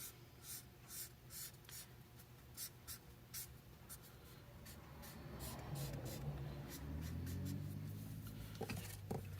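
A pencil shades narcissus leaves on paper in quick, soft scratchy strokes, close and faint, the rhythmic scribbling continuing with some low room noise underneath.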